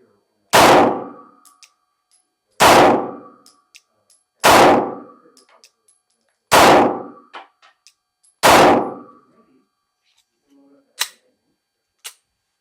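Five loud pistol shots fired at a steel target at a shooting range, each a sharp crack spaced about two seconds apart with a ringing tail, followed by two fainter metallic clinks at the end.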